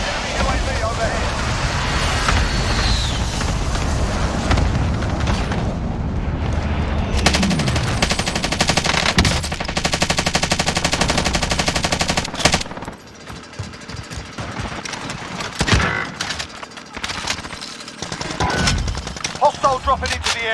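Machine gun fire in the Warzone video game during a drive-by, loud bursts of rapid gunshots over vehicle and wind noise, continuing in dense volleys with a shift to sharper separated shots later.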